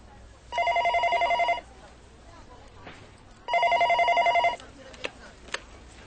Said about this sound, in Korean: 상태기가 몸이 좋지 않아 못 나올 것 같다는 하몽댁의 전화다.